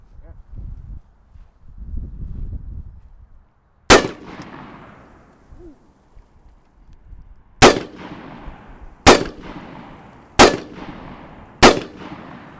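A Remington Model 81 semi-automatic rifle is test fired outdoors with five loud, sharp shots, one alone, then four spaced about a second apart, each ringing briefly, after quiet handling noises.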